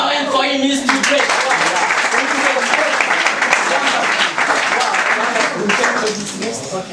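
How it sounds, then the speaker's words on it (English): An audience at a 2016 PSLS competition breaks into loud, sustained applause, dense clapping that fills the whole stretch before easing slightly at the end, with a voice briefly audible at the start. "Clap your hand for him, he's too great"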